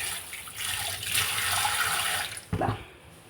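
Water is poured into a pan to cover fish pieces for a fish fry, giving a steady close pour for about two seconds that ends in a short splashy slosh.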